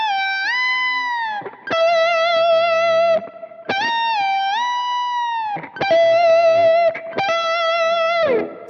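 Distorted electric guitar with effects plays a pentatonic lick built around a wide string bend, repeated phrases bending up and releasing, loud and close with no talking.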